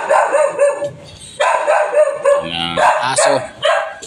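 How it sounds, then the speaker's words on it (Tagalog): A dog barks and yips repeatedly in short loud bursts near a busy, crowded food stall, with faint background chatter between the barks. "At may aso naman dito. Ayan na mga tahol-tahol."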